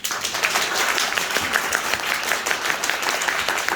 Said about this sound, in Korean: 오늘은 우리 여기 건반 하시는 막둥입니다. 박수 한 번 주세요.